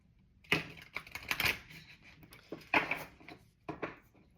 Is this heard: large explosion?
no